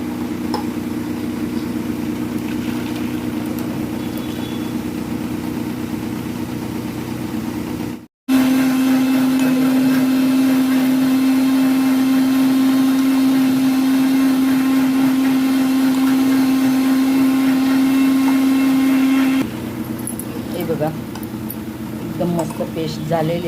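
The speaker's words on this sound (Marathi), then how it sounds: "मिक्सरला ग्राइंड करणार आहोत" A kitchen mixer grinder whirs in a loud, steady electric drone, pausing briefly and then running again at a higher, tighter pitch, while blending watermelon juice with cashews; a voice talks over the motor near the end.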